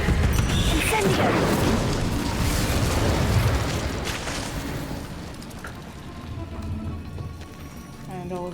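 An Incendio fire spell is cast in Hogwarts Legacy, a loud roaring burst of flame and crackle that fades over several seconds.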